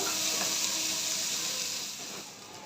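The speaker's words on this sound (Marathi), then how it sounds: "कांद्याला गोल्डन ब्राऊन कलर येईपर्यंत मस्त परतून घेऊया तेलामध्ये" Finely chopped onion sautéing in hot oil in a pan, a steady bright sizzle and hiss that holds evenly and then eases slightly toward the end, close up with no talking.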